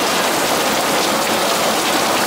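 Heavy rain pours down outside in a dense, unbroken roar, loud and close with no voices over it.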